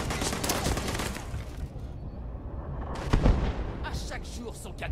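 Enemy gunfire in Starfield on PC: dense, rumbling bursts of shots and booming impacts fill the whole stretch, with a louder hit just past the three-second mark and a voice talking over it.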